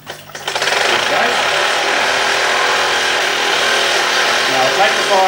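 A small model steam engine runs close by with a steady, dense mechanical whir and chuff that starts within the first half second and holds constant and loud throughout, with no break in the rhythm.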